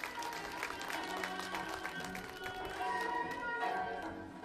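An audience at a community holiday celebration in Akner breaks into steady, sustained clapping that fills the whole stretch, heard at a moderate distance with a faint background murmur.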